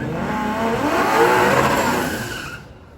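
A 1968 Dodge Dart drag race car roars down the strip, its loud engine rising as it accelerates away, then fading near the end.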